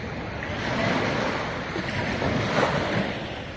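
Steady roar of surf washing onto a beach at Sattahip naval base, Thailand, continuous and fairly loud, with wind noise blowing across the microphone.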